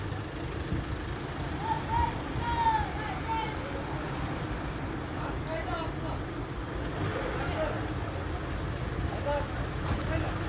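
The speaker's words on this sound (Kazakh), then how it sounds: "Эки жактама кирип атат машиналар." Cars and minibuses crawl into a traffic jam at Ala Archa nature park in Kyrgyzstan. A continuous low engine rumble runs throughout, with a few brief horn toots and people talking in the background.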